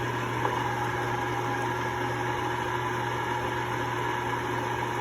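An electric mixer creams butter and powdered sugar for home baking, giving a steady whirring motor drone with a constant hum and no breaks.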